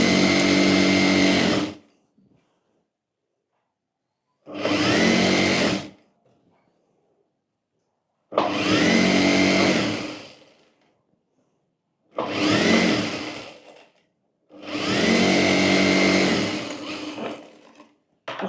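A sewing machine stitches co-ord set fabric in five loud, steady bursts of whirring, each lasting a couple of seconds and separated by silent pauses.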